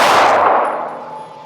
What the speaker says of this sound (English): So let's shoot and reconfirm that it's on 0 here.